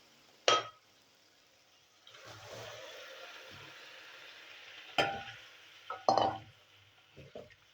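Peas stirred into a tomato and spice masala frying in a pan for ghugni, with a soft sizzle between several sharp spoon scrapes and knocks against the pan.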